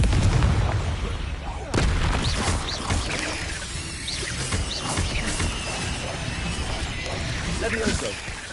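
Confringo spell explosions in Hogwarts Legacy combat, heavy booming blasts and crashing debris with clattering mechanical sounds, loud and continuous through the fight.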